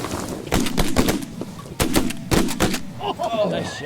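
A rapid volley of sharp shotgun blasts cracks out at ducks in a field hunt, several shots in quick succession, echoing outdoors with faint voices around them.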